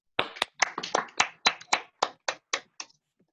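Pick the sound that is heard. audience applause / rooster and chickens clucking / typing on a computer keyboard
audience applause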